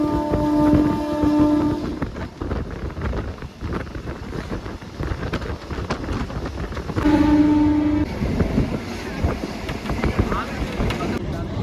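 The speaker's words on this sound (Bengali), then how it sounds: "চাম্পাহাটি থেকে একদম ভোরের বেলায় ট্রেনে রওনা দিলাম ক্যানিংয়ের উদ্দেশ্যে।" A passenger train rolls from Champahati toward Canning in the early morning, with a steady rumbling rattle throughout. Two long horn blasts sound near the start and again later, and wind buffets the microphone.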